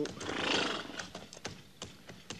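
A horse neighs with a loud, drawn-out whinny near a rocky outcrop, followed by scattered hoof clip-clops and faint talk in an old Western radio drama.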